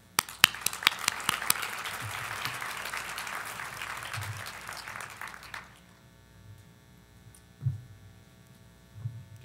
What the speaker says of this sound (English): So please help me give a round of applause for Sajan George.